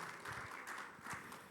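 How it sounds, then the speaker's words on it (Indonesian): A church congregation applauds during a Sunday worship service, a faint, distant wash of clapping that holds steady throughout. "Mari beri tepuk tangan yang meriah bagi Tuhan kita."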